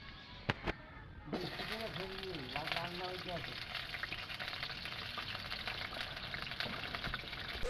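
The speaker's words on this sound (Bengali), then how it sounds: "এবার আমি আলুটা ভাজবো কড়াইতে সর্ষে তেল দিয়ে দেব" Potatoes drop into hot mustard oil in a wok after a couple of sharp clicks. A steady crackling sizzle follows, with a voice speaking briefly over the start.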